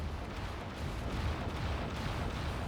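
An artillery turret firing in the real-time strategy game Act of Aggression, heard as a dense, continuous rumbling barrage of booms that blur into a steady roar with no clear gaps.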